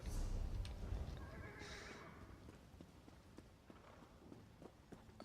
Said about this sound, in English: This guy just flaunting his digital version white horse.